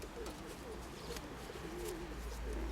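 A grey pigeon coos in a low, rolling warble, repeated several times over a constant hum of background noise in a loft, fairly close.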